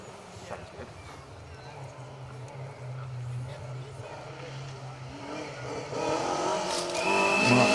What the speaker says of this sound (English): Mark 2 Escort RS 1800 comes through.